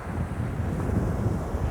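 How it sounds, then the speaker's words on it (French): Strong wind around 20 knots buffeting the microphone on a beach while surfcasting, a continuous low rumbling roar with faint surf behind it. "normalement le vent ça gêne pas trop, c'est pas un très grand vent"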